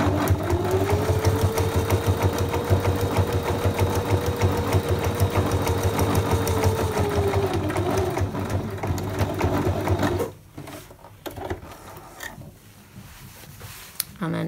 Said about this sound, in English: I'm going to follow the previous line of top stitching that we did on the opening of the bag